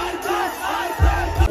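A crowd at a public meet-up cheers and shouts loudly in a brief, dense burst with deep thumps mixed in.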